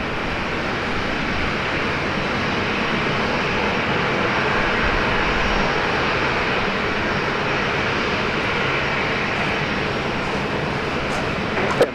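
A black Challenger business jet landing at Brisbane Airport, a loud, steady broadband engine roar that holds almost unchanged throughout with no clear rise or fade.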